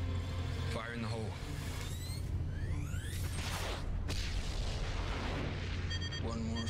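Explosion in the TV show The 100, heard as a deep booming blast with rumbling debris and sweeping tones beneath, amid soundtrack noise and chatter.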